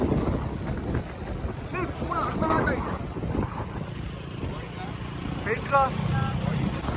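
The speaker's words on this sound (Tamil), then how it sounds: "காத்து வேற பயங்கரமா இருக்கு" Strong wind buffets the microphone during a drive across Parvathipuram bridge in Kanyakumari, a constant low roaring rumble with voices talking over it throughout.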